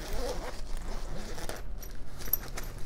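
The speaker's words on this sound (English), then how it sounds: "The zippers are really good quality. They're very easy to open." A zipper on an inexpensive Temu bag is drawn open in several quick, smooth rasping pulls, close up and clear, with no talking.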